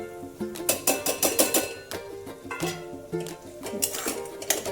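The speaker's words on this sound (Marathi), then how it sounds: "मसाला चांगला हलवून घ्यायचा आहे आपल्याला ह्याच्यात।" Masala paste being stirred in a cooking pan for a fish curry, with a spoon repeatedly scraping and clinking against the metal in an irregular rhythm, close and moderately loud, with no talk.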